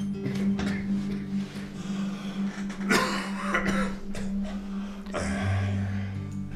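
Repeated coughing and throat clearing from a person who is ill, in bursts of varying strength, close and fairly loud, with no talk.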